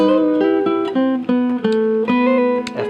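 A guitar plays a chord melody intro lick as a clear, close solo run of plucked notes and ringing chords, with no talk.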